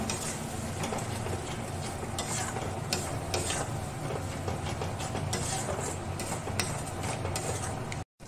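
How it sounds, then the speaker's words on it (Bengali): Masala fried in a pan with a paste of yogurt, green chilli and dried red chilli for a catfish curry, giving a dense, continuous sizzle with steady scraping stirs, close and even, ending abruptly. "সেই পেস্টটা দিয়ে এবার মশলাটাকে ভালো করে কষিয়ে নেব"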